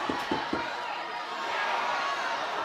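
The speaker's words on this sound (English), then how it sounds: "Stirling being roared on now by the home crowd" A home crowd roars steadily at a rugby match in Stirling, Scotland, as a broad, distant-sounding wash of cheering rises slightly, with a few sharp thumps early on.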